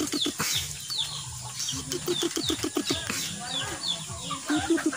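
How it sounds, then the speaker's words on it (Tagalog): Tame pigeons flap their wings hard in an aviary, producing repeated rapid fluttering bursts close by, with clucking bird calls and someone speaking over the wingbeats. "Lakas kumampay mga kapalpak, oh."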